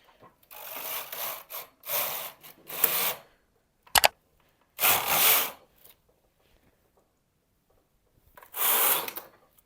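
A knitting machine carriage sweeps back and forth across the needle bed knitting rows of a sweater, making several separate rasping whooshes with quiet gaps and one sharp clack in between.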